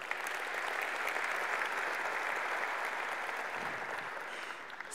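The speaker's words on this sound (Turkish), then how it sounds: "bir alkış rica ediyorum" An audience at an industry congress session on Finland applauds steadily, a dense, even wash of clapping from a large hall that holds for several seconds before easing slightly.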